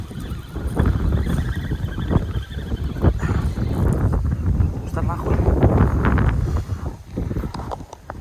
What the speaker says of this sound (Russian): Ветер дует уже сильно.